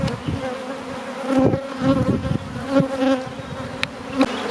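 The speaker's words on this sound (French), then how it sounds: "On en voit qui donc lèvent les fesses et battent très très fort des ailes." Honeybees fan their wings hard at the hive entrance, a steady close-up insect drone with rising and falling swells, with no voices.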